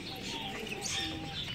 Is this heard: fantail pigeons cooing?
yes